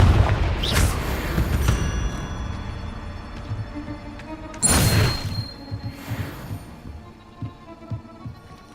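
Confringo fire spell blasts from Hogwarts Legacy, played as a dark wizard, land as two deep thudding bursts a few seconds apart amid softer scattered combat sounds and low rumbles.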